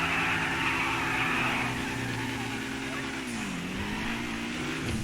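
A Dewbauchee Rapid GT Classic, an Aston-Martin V8 style car in GTA Online, holds a steady engine drone that dips in pitch midway and climbs again, loud and continuous with no talk over it.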